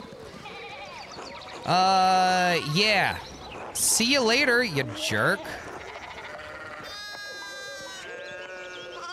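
Sheep bleating in the video game Pentiment, several loud wavering bleats in close succession, then a steadier tonal call, with a character's voice speaking around them.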